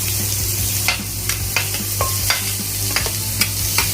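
Tomatoes hit hot oil in a frying pan for soybean dal, giving a steady close sizzle broken by repeated light scrapes and clicks of stirring.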